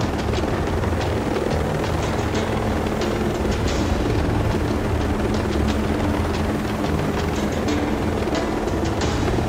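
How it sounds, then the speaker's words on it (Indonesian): In Ghost Recon Breakpoint, a helicopter descends, giving a steady, loud rotor roar with rapid blade chop that fills the whole clip without letup and no voices over it. "Malah sempit banget lagi jalurnya dia buat turun helikopter."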